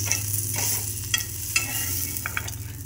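Chopped onion roasting with green chillies in a hot pan for a black-masala brinjal curry, stirred steadily: a continuous sizzle with scraping strokes and occasional sharper clicks of the spoon against the pan, with no voices.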